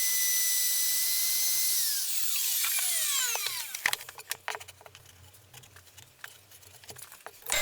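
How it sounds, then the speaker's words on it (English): A router bit slotting plywood for a woodworking shooting board: a loud, high-pitched whine that winds down with a falling pitch, then quiet scattered clicks and taps as the tool settles. "we need to move the router bit across until it meets this scribed line here."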